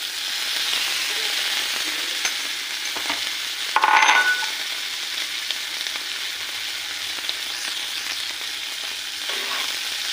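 Taro stolons fry in spiced oil with fried shrimp powder while a spatula stirs them, giving a steady bright sizzle with scraping strokes and one louder clatter partway through; no talking.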